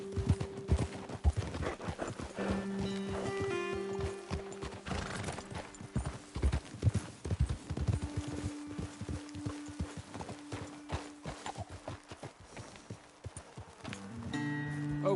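Horses in Red Dead Redemption 2 clip-clop steadily over ground with occasional neighs and whinnies, close and continuous for the whole stretch, with no talking.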